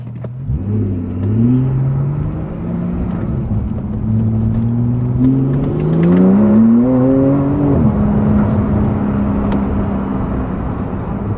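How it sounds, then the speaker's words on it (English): A Porsche 911 Turbo S engine of close to 700 horsepower pulls hard from inside the cabin, its drone climbing in pitch through several gear steps, loud and continuous, with no talking. "The engine sounds are beautiful and amazing."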